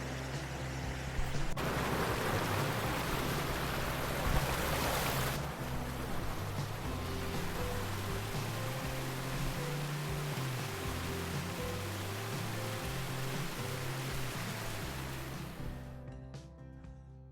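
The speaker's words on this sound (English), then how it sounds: "Such a calm creek up here, and as soon as it hits that elevation change, it comes a roaring stream." Mountain creek at Cloudland Canyon tumbling down an elevation drop, a steady full-bodied roar of rushing water that fills the scene without a break, close and loud with no voices.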